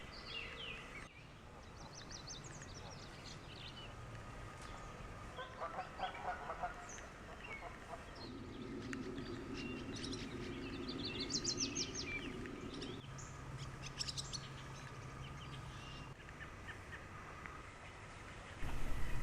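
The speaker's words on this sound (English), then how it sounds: "There just seems to be a constant soundtrack of birds singing everywhere" Birds keep calling and singing all around a small forest campground set among farm fields, a mix of chirps and honking calls at mid distance, faint over soft ambient noise, with no voices.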